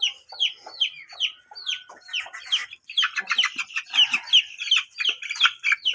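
Chickens cluck and chatter continuously close by, a rapid series of squawks and clucks from several birds with no talking.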